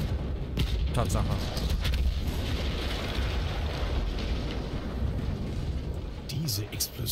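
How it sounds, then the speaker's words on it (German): A loud, sustained rumbling blast with heavy low-end roar from an explosion in Battlefield 1, fading slightly toward the end with small crackles. "Diese Explosion war für mich einer der schönsten Anblicke des ganzen Krieges"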